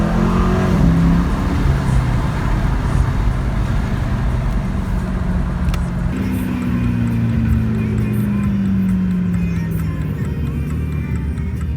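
A Dodge Charger R/T, fully warmed up, roars under full throttle from inside the car. The loud engine note holds steady and then climbs in a rising sweep partway through over continuous road noise, with a faint voice underneath.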